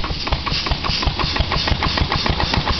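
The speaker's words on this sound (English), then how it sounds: "Here's a little steam." A small model steamboat steam engine runs with a fast, even chuffing beat under steady hiss, loud and close throughout without speech.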